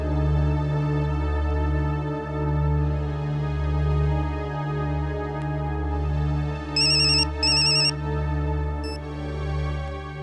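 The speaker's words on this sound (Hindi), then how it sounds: "फिर से डायल करता हूं।" Telephone ringing after a number is redialed, a loud electronic ringtone repeating in steady tonal cycles for about ten seconds, with a brief higher beeping overlaid near the end and no speech.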